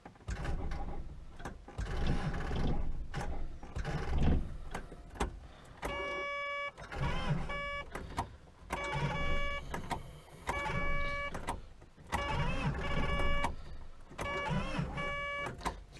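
A Doosan 75 engine cranks over and over on a flat battery in sluggish, labored bursts without catching, a repetitive whirring grind with brief pauses between attempts.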